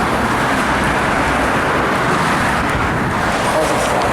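Cars drive past on a Brisbane street near a McDonald's and a petrol station, making a constant, close roadway roar with no gaps or quiet spells.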